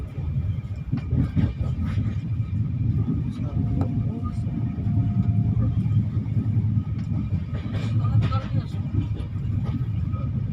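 The Kaziranga Express rolls past New Farakka Junction, a continuous low rumble and rattle of carriages heard from onboard, with scattered clanks and a voice talking over it.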